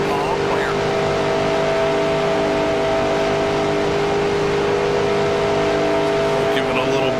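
Unrestricted race car flat out above 200 mph at Daytona in the NR2003 racing game, a constant loud high-revving engine drone throughout, with a voice talking over it.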